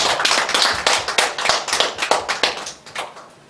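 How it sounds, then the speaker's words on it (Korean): A church congregation at a Sunday worship service claps together. The applause is loud and close, with fast, dense hand claps that fade out after a few seconds. "주님께 영광의 박수 올려드리겠습니다"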